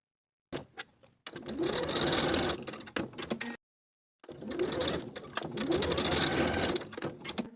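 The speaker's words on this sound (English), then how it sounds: "I'm going to sew with a 5/8 inch seam allowance from the fold to the finishing stitches of the placket" A sewing machine stitches a seam along the hem of a Peter Pan collar dress, with two steady runs of rapid mechanical whirring separated by a short pause, and brief clicks at the start and end of each run.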